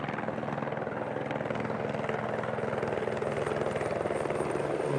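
A customs helicopter passes overhead, its rotor chop a loud, steady, rapid beat that stays constant for the whole stretch with no voices.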